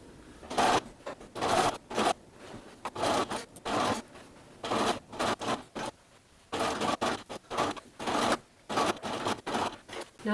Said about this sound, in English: So now I can go around and sew this waist seam